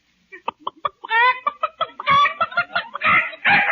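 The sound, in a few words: rooster crowing imitated over the phone in radio comedy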